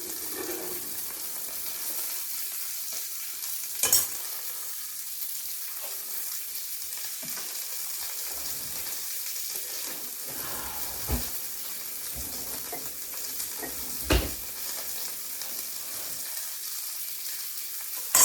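A pancake fries on a griddle with a soft, even sizzle that runs throughout, broken by a few sharp clicks and scrapes of a spatula near the flip.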